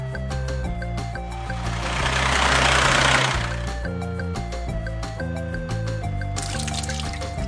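Water pours into a cement mixer truck's drum at a highway construction site, a brief rushing, splashing gush that swells over a few seconds under a bed of music.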